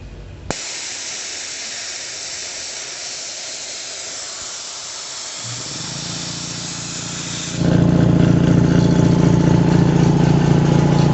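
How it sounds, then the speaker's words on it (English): An air compressor on a 1937 Dodge, freshly leveled with a tightened belt, starts with a click, hisses steadily, then settles into a louder, even mechanical hum near the end. "So compressor's level now, and runs good, just kind of quiet."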